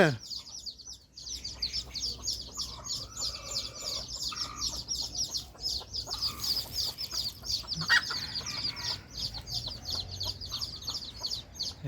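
Hens and chicks of the white-eared Thai breed cluck and peep steadily while being herded into a brooding pen, a dense run of short high chirps over rustling movement throughout.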